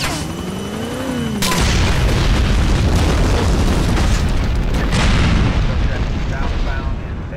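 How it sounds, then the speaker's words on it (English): A massive explosion in the GTA IV Ballad of Gay Tony video game bursts in as a deep booming blast, followed by a long, loud rumbling roar that slowly fades. "Reports of an explosion at Transit Command."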